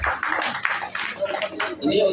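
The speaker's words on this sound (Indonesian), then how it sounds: "tepuk tangan Bapak Ibu buat Mas Roni" An audience at an Indonesian gardening workshop claps in a brief patter of applause, mixed with a presenter's voice speaking over it.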